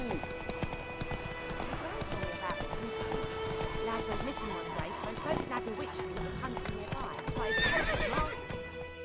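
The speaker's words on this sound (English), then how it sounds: "Whoa there, Roach." A horse in the video game The Witcher 3 moves with steady clip-clop hoofbeats and gives a loud whinny near the end, with a voice heard over the hooves.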